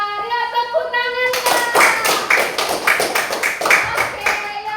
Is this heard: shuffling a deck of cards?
no